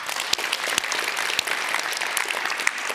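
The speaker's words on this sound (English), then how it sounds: "and also an applause for them" Steady applause fills a symposium hall of the Wageningen graduate schools, dense and even throughout, with a few sharper individual claps standing out.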